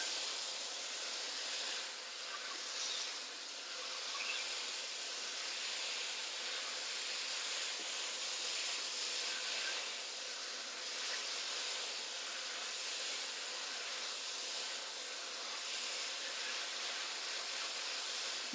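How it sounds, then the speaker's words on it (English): Steady, dense sizzling hiss of chilli pork stir-frying in a hot pan, continuous and fairly close, with faint shifts in intensity and no talking. "we're frying away beautifully here"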